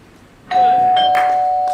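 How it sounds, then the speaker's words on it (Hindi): A doorbell rings loudly and close, a sustained electronic tone with a few bright chime strikes layered over it, on stage during a comedy play. "घंटी बजी,"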